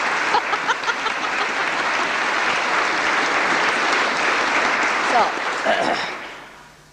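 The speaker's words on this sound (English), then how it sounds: "You are clapping for yourself." A large audience at a Sahaja Yoga gathering applauds with dense, even clapping that holds steady, then fades out near the end.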